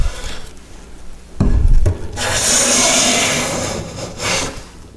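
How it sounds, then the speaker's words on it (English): A freshly sharpened hand plane takes fine wood shavings, making a close, loud hissing swish on each pass, with a short knock before the longest stroke. "I want to take fine shavings."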